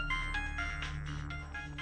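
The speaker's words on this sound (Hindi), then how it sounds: "अरे लड़की का बड़ा फोन आ रहा है तुम्हारे मोबाइल पे।" A mobile phone rings with an incoming call, playing a short melodic electronic ringtone that repeats over a low steady hum and sounds close and moderately loud.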